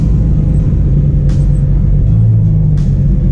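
A turbocharged Infiniti G35 cruising on the road alongside an NSX and a Huracan: a loud, steady low engine drone and road rumble, with two brief hissing bursts over it.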